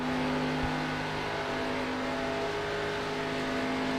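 An ARCA Series race car engine at Kentucky Speedway holds a steady, droning whine at constant pitch, heard at a distance with no voices.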